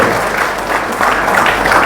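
Rally audience in Patna, Bihar, breaks into loud, sustained clapping, a dense steady wash of applause close by that swells slightly near the end.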